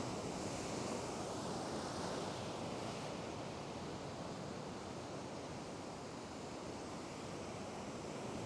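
Ocean surf breaks along a fishing coast, a soft, distant wash of waves that rolls on in a continuous broadband hiss with some wind, and no voices.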